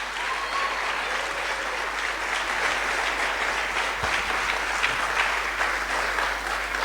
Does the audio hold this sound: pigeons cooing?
no